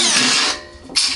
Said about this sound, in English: I've got a 5/16 inch drill ready to put these on